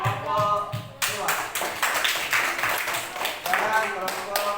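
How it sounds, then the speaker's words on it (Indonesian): A classroom group claps after a student group presentation, starting abruptly after a moment of quiet and continuing as a fairly close, steady patter of hands for several seconds. "Tepuk tangan kelompok 2."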